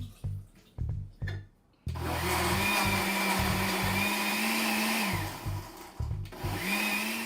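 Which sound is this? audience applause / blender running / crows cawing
blender running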